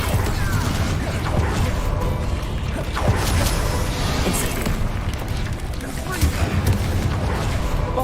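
Confringo explosive spell blasts in the Hogwarts Legacy video game amid continuous loud combat, booming impacts and crashing debris layered over dense mechanical clatter without pause.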